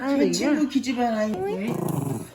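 A dog growls in low, rumbling bursts while chewing on fruit peel, close to the microphone, with a voice sounding alongside the growls.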